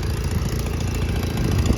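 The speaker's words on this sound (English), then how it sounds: "Nice little running mower, it looks like" A Honda 5518 garden tractor's engine idles steadily at close range, a loud, even low-pitched rumble with a fast regular putter and no voices.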